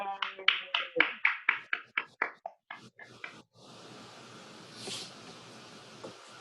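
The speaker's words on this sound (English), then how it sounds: "Give them a round of applause." A class applauds a group presentation with about a dozen sharp, distinct claps in a quick run that thins out, followed by low room murmur and a faint voice.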